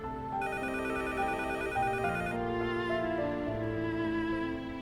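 A telephone rings at a food counter, a steady electronic ringtone with layered repeating tones and a bright trilling top that drops out partway through, sounding continuously and fairly loud without voices.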